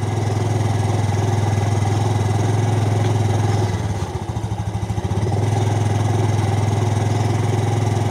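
A motorcycle engine idles loudly and close by, a steady throbbing rumble that briefly dips and stutters midway before settling back.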